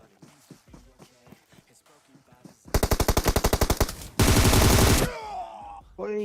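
Gunfire in PUBG Mobile from an M24 bolt-action rifle and an M4, a fast rattling burst of shots followed by a dense louder volley, with softer footsteps and movement beforehand and a sharp ringing tail afterward.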